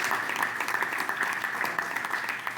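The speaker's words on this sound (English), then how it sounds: "let's give ourselves a hand clap for that" A seated audience at a construction-industry panel on mental health and suicide prevention claps together, a dense, steady wash of applause that stays even throughout.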